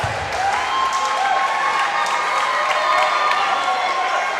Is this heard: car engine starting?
no